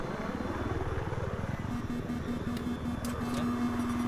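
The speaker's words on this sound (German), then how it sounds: "Ich hab einen feindlichen Heli gesichtet." A helicopter's rotor in the video game Battlefield 4 thumps steadily at moderate distance, a continuous rhythmic chop with faint background noise.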